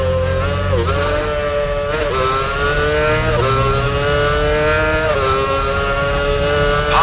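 Loud, continuous F1 race car engine screaming at high revs at speed on a circuit in F1 Championship Edition, a steady high-pitched whine with brief gear-shift dips and a rising pitch, no talk.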